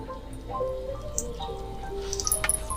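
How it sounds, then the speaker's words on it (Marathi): Water squeezed by hand from bitter gourds salted and rubbed with turmeric drips and trickles in soft, irregular drops close by, quiet and without talk. "कारल्यातून आपल्याला पाणी काढून टाकायचं आहे दोन्ही हाताने असं कारली घ्यायची आहेत ना असं सगळं पाणी काढून टाकायचं आहे"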